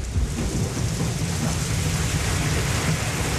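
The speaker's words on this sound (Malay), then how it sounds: "Di luar masih hujan." Heavy rain pours down steadily with low rumbling thunder beneath it, a loud, continuous wash of sound with no voices.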